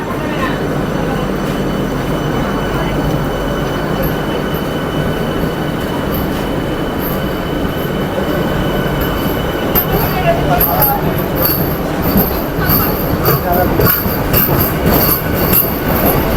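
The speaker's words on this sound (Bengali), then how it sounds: "ট্রেন ছেড়ে দিল দেখতেই পাচ্ছ" A Sealdah–Ranaghat AC local train in Kolkata pulls away from the platform with a loud, steady rumble. High wheel squeals and clattering rise toward the end, and faint voices sit under the noise.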